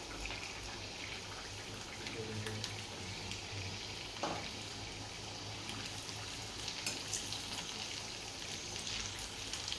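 Sabudana (sago) vadas frying in hot oil over a full flame, giving a steady, close crackling sizzle with scattered small pops throughout.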